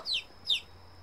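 Two short, bright clucks from a chicken in the video game Medieval Dynasty in quick succession, clear and close over a low steady background hum.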